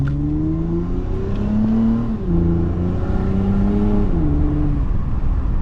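A Toyota Camry TRD with a resonator-delete exhaust revs through paddle-shifted gears, its deep droning tone rising and stepping with each shift, loud and close throughout.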